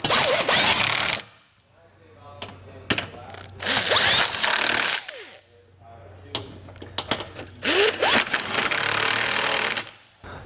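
An impact wrench with a 22 millimeter socket runs up Curt Class III trailer hitch bolts on a 2022 Acura MDX, firing in several loud, close, rattling bursts with short quiet gaps and metallic clinks between them.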